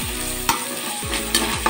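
Ginger garlic paste fries in oil with a close, busy sizzle and crackle, cut by a few quick stirring scrapes and taps against the pan, and nobody speaks.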